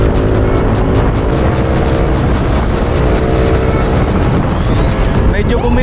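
A motor scooter fitted with Pirelli tires rides along, its engine drone and road roar steady and loud throughout, with a voice speaking over the run.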